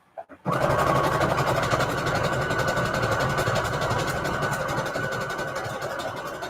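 A sewing machine stitches steadily through fabric backed with heat-and-bond, a continuous close mechanical whir that starts abruptly after a couple of faint clicks and runs unbroken to the end.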